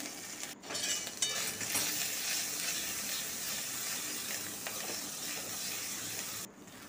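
Ginger paste with ground coriander, cumin and dried red chilli paste frying in oil in a pan for a pointed gourd curry: a steady, close hiss and sizzle that ends abruptly.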